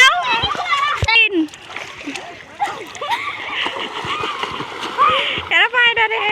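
Children dive and play in a river in winter, with sharp repeated splashes amid loud children's shouts and chatter throughout.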